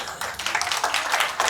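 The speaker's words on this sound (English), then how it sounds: "The delayed guys were clapping." An audience at an academic colloquium and award session claps in a dense, steady patter that continues throughout.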